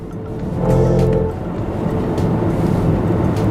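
A BMW iX electric car accelerates with its composed synthetic drive sound, a smooth rising hum swelling then settling over road rumble, heard from inside the cabin with no talking.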